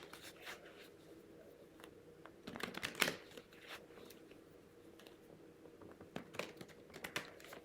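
Tarot cards get a riffle shuffle: quiet crisp flutters and card clicks, with a denser burst of riffling partway through, among scattered soft handling sounds and light rustles.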